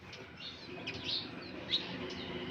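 Sparrows perched in a pruned tree chirp in short, scattered high calls over a steady outdoor background hum, moderately near, with no talking.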